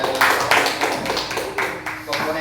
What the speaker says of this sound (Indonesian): tepuk tangan dulu untuk Bu Siti